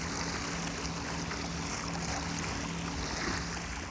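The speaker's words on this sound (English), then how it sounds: "The sound of the propellers of the logging boats making their way to the sawmills." Underwater propellers of logging boats heading to the sawmills make a steady, continuous drone with a low hum that never lets up.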